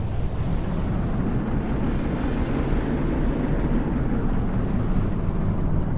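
Nordland class multipurpose vessel in Stormworks pushing through waves, a steady low rumble of hull and surf with wind noise, constant and fairly loud, no talking.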